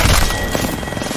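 Rapid gunfire from Apex Legends, a dense, loud burst of close shots over a rumbling game backdrop, sustained for about a second.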